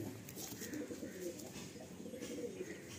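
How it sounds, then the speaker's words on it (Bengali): Madrasi pigeons coo at close range with a soft, steady low murmur that runs through the whole stretch, and faint higher chirps and rustles sit above it. "বাহ, পায়রা খুব সুন্দর পায়রা।"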